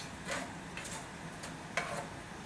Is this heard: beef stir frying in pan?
yes